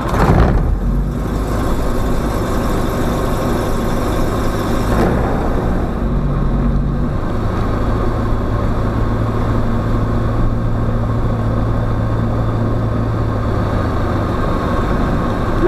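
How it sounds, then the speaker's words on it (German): A Dynamic WT9 light aircraft engine, still warm, cranks and catches near the start, then settles into a steady, loud running drone with a shift in tone partway through. It continues evenly without speech. "Motor starten."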